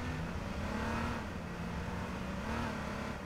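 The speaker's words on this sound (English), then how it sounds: "I think it's a rev limiter" A car engine in the video game H1Z1 holds at high revs against the rev limiter, a loud, steady buzzing drone with a slight wavering pulse and no talk.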